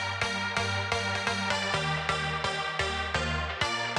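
A chord loop bounced to audio in Ableton Live: synth chords in a steady rhythmic pattern, each chord re-struck repeatedly with shifting harmony, loud and close, with no voices.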